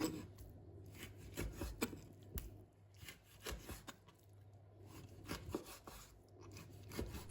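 Pork belly being cut into large chunks for braised pork, a knife working through the meat on a wooden board with a run of soft, irregular chopping and scraping strokes, fairly quiet and close, no talking.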